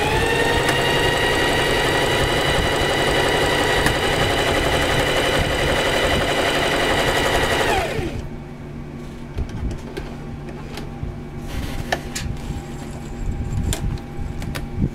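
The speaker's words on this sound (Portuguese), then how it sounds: "agora é só costurar, pisar no pedal, costurar e ela vai fazer toda a casa de botão" A Facilita Pro 4423 sewing machine stitches a buttonhole in a fast, steady mechanical whir for about eight seconds, then stops, leaving quieter room noise with a few scattered clicks.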